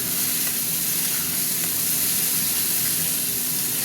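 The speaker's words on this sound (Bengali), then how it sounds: "এবার এই মশলাটা ভালো করে আমি কষবো।" A spice masala for a spicy Bombay duck (loitta) curry fries in a pan, a dense steady sizzling hiss at even loudness throughout, with no talking.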